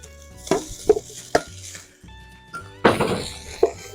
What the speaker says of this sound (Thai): เราก็ใส่ข้าวเลยครับ